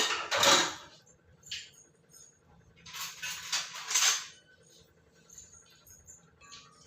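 A spoon stirring Chettinad kummayam batter with jaggery in a pot, giving close, quiet scraping and clinking strokes in a few short bursts separated by near silence.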